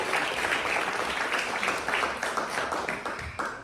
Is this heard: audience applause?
yes